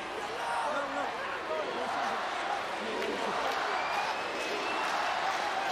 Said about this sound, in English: Gets the spectators cheering a little louder.